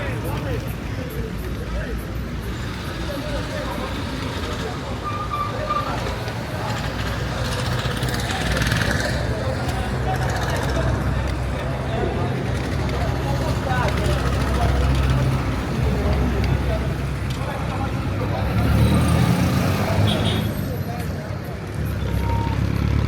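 Street traffic with souped-up public service vehicles in Kondele, Kenya, a steady rumble of engines and road noise under a busy crowd of voices throughout.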